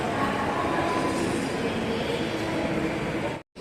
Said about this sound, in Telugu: ఇది వచ్చేసి చెన్నై మెట్రో స్టేషన్ అండి సో వెయిట్ చేస్తున్నాము మెట్రోకి